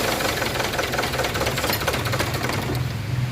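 A Kia Sorento engine that starts but shuts off within seconds runs close by with a steady, fast, rattling knock, without a break and without speech.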